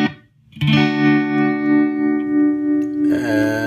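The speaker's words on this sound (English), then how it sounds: "and the tremolo sound." A guitar runs through a Donner Golden Tremolo pedal, one sustained chord swelling and fading in a slow, even pulse, then a fresh strum near the end, loud and alone.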